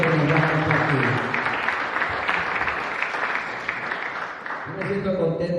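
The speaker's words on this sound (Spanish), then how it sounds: "Así que damos un fuerte aplauso a Jesús" A church congregation at Iglesia El Shaddai in Rosarito claps in a fairly quiet, even wash of applause, with a voice and a tonal sound at the start and end.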